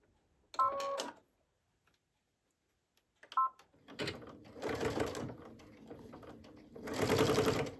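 Sewing machine stitching a seam on a duffel bag, short bursts of fast rhythmic mechanical whirring close by, preceded by beeping button tones and a clunk, with the longest run of stitching at the end.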